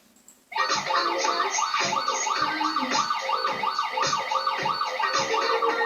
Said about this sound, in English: So you can hear that you're picking up both the siren and the music.